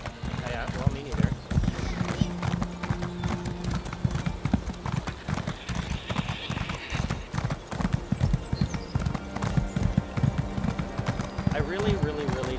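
Horse hooves clip-clop steadily in The Elder Scrolls Online as a mount trots along, with a horse whinnying at moments and a person talking over much of the sound.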